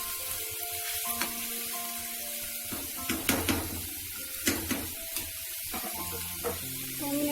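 Chopped tomatoes for a small-fish curry sizzle steadily in a hot pan, a continuous crackling hiss with brief sharper pops and utensil clinks scattered throughout, close and moderately loud with no talking.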